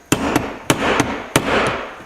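A hammer drives a punch against a pin on a Ludwig Speed King bass drum pedal, with the punch resting on a socket on a workbench. Three sharp, loud metallic strikes land at even intervals, each followed by a lighter rebound tap.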